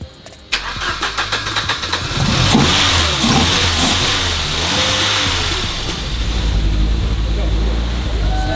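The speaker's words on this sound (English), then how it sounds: "Keep pushing the gas." A car just delivered from Japan, jump-started with a jump box, cranks in quick pulses, catches, then revs loudly and continuously as the gas pedal is held down, its engine roaring close by.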